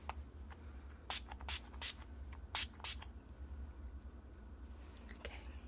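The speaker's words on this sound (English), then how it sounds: "you get this at Sephora, makeup setting spray" Makeup setting spray is misted in a series of short hissing bursts, two or three close together, then a pair more after a brief pause, fairly near against a quiet room.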